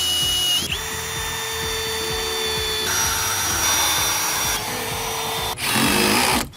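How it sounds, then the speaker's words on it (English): A power drill drives screws into deck boards, whining steadily at high speed with pitch shifts as each screw seats, then a louder final burst near the end, with no talk. "We've face screwed the ends of each board, and we face screwed down the middle."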